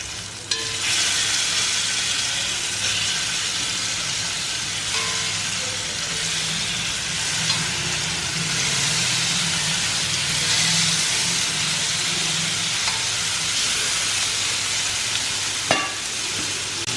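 Soya chaap pieces fry in a little oil in a pan, giving a loud, continuous sizzle that holds steady for a long stretch, with occasional light clinks of stirring and no talking.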